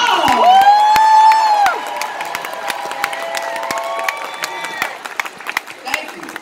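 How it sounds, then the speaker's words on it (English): A middle school graduation crowd erupts in cheering and whoops, with a loud sustained shout at the start that fades into scattered claps and yells from the audience. "a thunderous round of applause"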